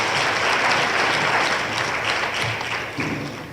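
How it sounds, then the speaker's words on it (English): A conference audience at a Cisco Live women's network session in Los Angeles breaks into sustained applause, a dense, even wash of many hands clapping that holds steady and fades slightly toward the end, with no talking over it. "I think we owe ourselves a round of applause"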